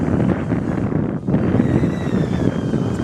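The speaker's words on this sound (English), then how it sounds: "you can hear it's really windy" Strong wind roars and buffets a DJI Avata drone's microphone continuously, a dense rushing noise with only a brief dip.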